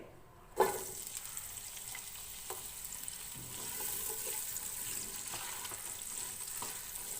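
Chopped onions hit hot oil with cumin and fry in a pan, a soft initial splash followed by a steady, moderate sizzle with occasional faint clinks, close by and without talk.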